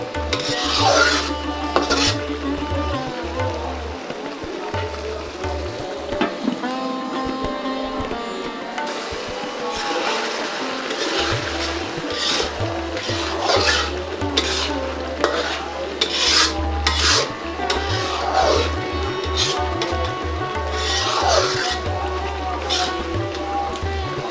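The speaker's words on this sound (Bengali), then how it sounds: "নিচে তেল আসা পর্যন্ত আমি কষাতে থাকবো এভাবে নাড়তে থাকবো" A spoon scrapes and stirs beef bhuna in a cooking pan with oil, making repeated rhythmic rasping strokes with a faint sizzle and clinks of metal, loud and close with no talking.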